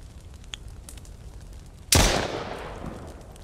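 A single gunshot in the survival video game Mist Survival: a sharp, loud crack cuts through quiet ambient background and trails off in a long fading echo.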